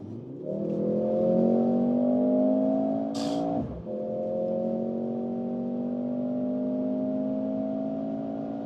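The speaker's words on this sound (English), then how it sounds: "And then we can accelerate out one more time if we are already at speed." Mercedes GLC 43 AMG in Sport Plus mode accelerating hard from speed after a two-gear downshift, engine note rising steadily and loud, with a brief shift break partway through, heard from inside the car.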